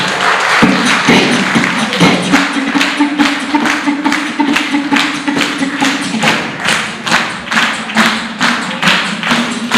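An audience at a 2023 arts, culture and innovation festival in Deoria claps together for a poet in a steady, rhythmic beat, each clap a loud, close, thudding burst repeating evenly for several seconds.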